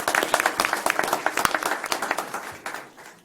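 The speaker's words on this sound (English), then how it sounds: "So a big round of applause." Audience applause for a top-ranked girls' team at a county commissioners court meeting, dense, close-sounding clapping that stays strong throughout before gradually thinning toward the end.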